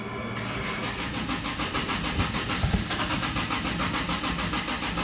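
A Lexus IS300 drift car engine cranks over and catches, then settles into a loud, rough idle with a small blip of revs partway through, heard up close with no talking.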